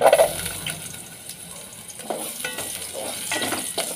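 Ginger sautéing in a little oil for chicken tinola: a soft, close sizzle with scraping and stirring clatters, a brief clunk at the start and a few sharper utensil knocks later, no talking.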